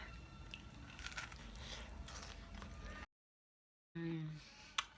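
Someone bites into a homemade, kinda healthy cookie and chews with soft crunching and squishy mouth sounds, close up, broken by a short silence before more chewing resumes.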